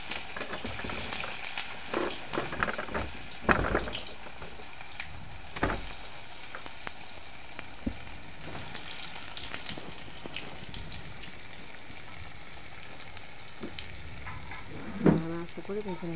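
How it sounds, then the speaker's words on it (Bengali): Karkol dough pieces frying in hot oil for a mustard-poppy filled snack, a soft steady sizzle with scattered pops and a few clinks of a spatula stirring, moderately quiet throughout. "তেলটাও গরম হয়ে গেছে, তেলের মধ্যে গুঁড়ো গুঁড়ো দিয়ে দিচ্ছি"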